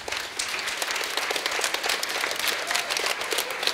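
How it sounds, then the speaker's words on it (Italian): An audience at a live show applauds with steady, dense clapping that stays loud and even throughout, with no voices above it. "fate un grande applauso."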